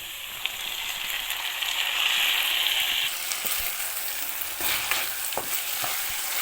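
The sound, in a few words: stirring onion, garlic and tomato frying in a pan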